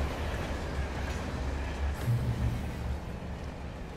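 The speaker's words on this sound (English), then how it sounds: "I think we have to avoid getting hit by the train." A train rumbles past in the Alan Wake video game, a steady low roar with faint clacking and a brief squeal, heard alone without voices for the whole stretch.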